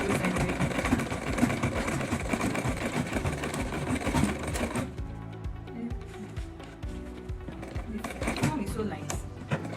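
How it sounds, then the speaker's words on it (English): A sewing machine stitches hip and butt padding, its motor whirring in a steady, busy rumble that drops briefly midway and then picks back up, with speech faintly underneath. "the machine is sewing it on both sides already"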